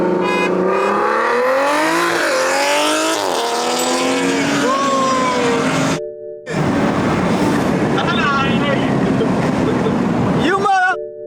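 Big-turbo BMW F30 335i with N55 and F30 340i with B58 accelerating hard in a 20 mph roll race, loud rising engine roar with gear shifts, a brief cut, then continued revving under excited talk.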